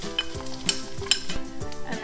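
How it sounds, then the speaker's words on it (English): Chopped onions sizzle in a pan of hot olive oil, a steady frying hiss under intermittent stirring scrapes and a couple of sharp utensil clinks, close and moderately loud. "we're gonna put the onions into the pan with the olive oil"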